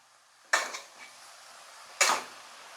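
Food is mixed in a pot, heard as two distinct metallic clanks of a spoon against the pot about a second and a half apart, close in an otherwise quiet room.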